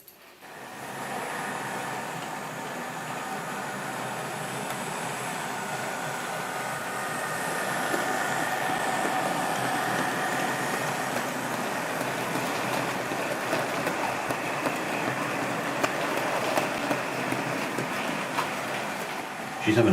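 A KR Models Fell model locomotive in BR black runs on track, giving a steady, fairly quiet whirring mechanical hum that continues evenly throughout.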